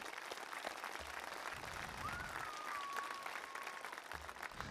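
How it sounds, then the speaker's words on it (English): Faint, distant applause from a school commencement crowd for retiring staff, sustained and even throughout, with a soft whistle-like tone drifting briefly over the clapping. "So a round of applause for them."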